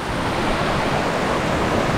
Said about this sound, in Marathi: खाली पाण्याचा मोठा प्रवाह आहे